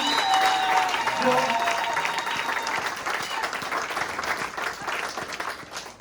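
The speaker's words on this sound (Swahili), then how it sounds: "Mpigie makofi" A crowd applauds with sustained, dense clapping that stays loud and steady, with faint voices mixed in.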